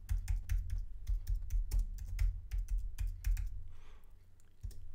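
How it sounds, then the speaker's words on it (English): A name is typed on a computer keyboard in rapid, irregular clicks and taps, close and clear, pausing briefly near the end before one last keystroke; no one speaks. "you would just type in his name."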